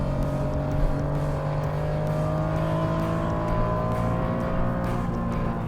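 A Honda NSX engine drones steadily in second gear, geared tall, while driving over a slightly jittery road, its tone rising slowly and evenly under loud cabin and road noise, with no talking.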